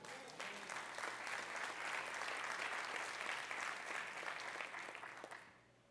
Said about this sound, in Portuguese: aplaude a Ele.